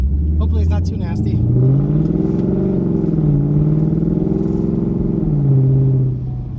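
A red 2015 Ford Mustang fitted with welded-on bullet mufflers drives and accelerates, its engine a loud, close, deep rumbling drone that rises and falls in pitch through the gears, with brief talk at the start.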